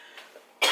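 A single sharp, loud cough bursts out near the end of a short quiet stretch, close to the microphone in an indoor room.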